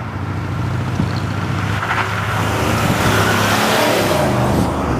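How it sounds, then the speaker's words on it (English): A 2015 Cadillac Escalade 4x4 cruises on a smooth road, heard from inside as a steady, even low hum of engine and tyres with no talking. "On a smooth road like I'm driving on right now, this truck just rides beautifully."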